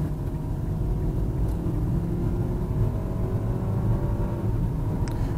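A Kia car rumbles by at close range, a steady low engine drone with mild rises in revs, continuous and fairly loud throughout with no voices.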